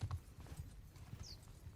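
Horse hooves clip-clop in a medieval battle video game, a quiet, steady run of soft thudding steps under low background rumble, with a brief bright chirp near the middle.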